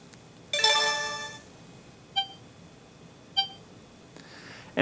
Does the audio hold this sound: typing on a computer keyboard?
no